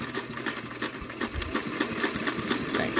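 A sewing machine stitches a centered zipper into a dress in quick, even bursts, its rapid mechanical rhythm close and clear with no talking.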